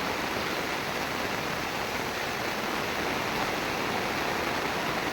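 Continuous roaring rush of fast-moving floodwater, a dense, unbroken wash of noise with no pauses, fairly distant and steady throughout.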